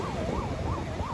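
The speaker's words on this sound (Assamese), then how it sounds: "এইফালে এম্বুলেঞ্চ এখন ফাঁচি আছে" An ambulance stuck in a traffic jam near the Maligaon flyover wails with a rising and falling siren, fairly close and steady, over faint traffic noise.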